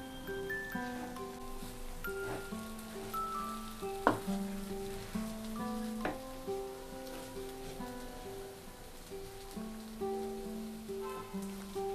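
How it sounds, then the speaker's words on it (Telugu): Pesarattu upma in a pan gets stirred over a faint steady sizzle, with intermittent spoon scrapes and taps spread across the stretch and a background of musical tones, no talking. "ఇప్పుడు మనం ఒకసారి కలుపుకుందాం."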